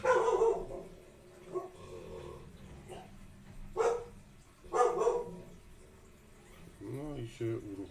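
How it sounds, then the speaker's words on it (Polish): Dog barking in the horror video game Alan Wake 2, a few separate barks spread across the stretch at moderate loudness, mixed with in-game ambience and low background sound. "No i się uruchomił piesio."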